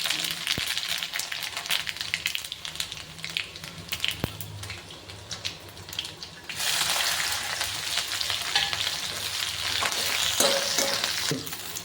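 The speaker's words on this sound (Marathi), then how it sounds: "त्याच्यात थोडे जिरे घालून घेऊ जिरे लाल झाल्यानंतर थोडीशी मोहरी घालून घेऊ आता लसूण घालून घेऊ" Cumin, mustard seeds and garlic sizzle and crackle in hot oil, a steady frying hiss that surges louder partway through as more goes into the pan.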